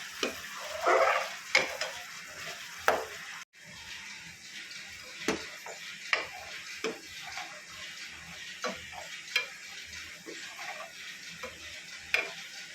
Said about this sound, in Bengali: এই যে আমার নারকেল তেল হয়ে গেছে এটা আরও লাল করে ভেজে দিতে হবে